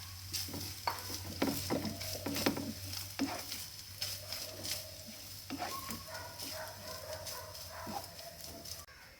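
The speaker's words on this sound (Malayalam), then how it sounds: "ഇനി ചുരണ്ടിയെടുത്ത തേങ്ങ അതിലേക്ക് ചേർത്ത് ഒന്ന് വറുത്തെടുക്കാം." Grated coconut frying in a pan for unniyappam, a soft steady sizzle with scraping stirs and light spoon taps, close and moderately quiet, with a faint background tone.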